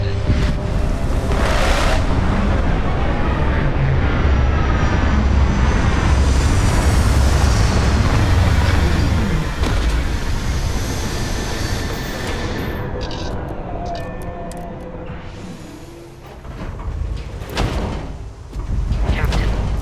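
Spaceship landing in the Starfield video game, a loud, steady roar of engine rumble and rushing, wind-like noise lasting nearly twenty seconds and easing off toward the end.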